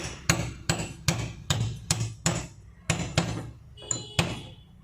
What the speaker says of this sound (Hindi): इसको अच्छे से बिठाने के लिए थोड़ा सा मुझे ठोकना पड़ेगा।